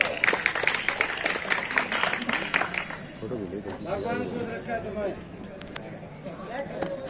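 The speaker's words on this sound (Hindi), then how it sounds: "तालियों से स्वागत करें" A crowd at a Holi gathering in Sethal claps loudly to welcome a guest legislator. The applause is thick at first, then thins and fades after about three seconds as a person starts speaking and talk takes over.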